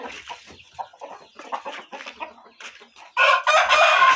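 Chickens at a stable give sharp, irregular clucks and squawks, close and loud, with a louder burst of calling near the end, alone without talk.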